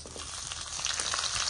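Potatoes frying for aloo bhaja sizzle in hot oil, a steady, dense crackling hiss that holds evenly throughout at a moderate level with no talk.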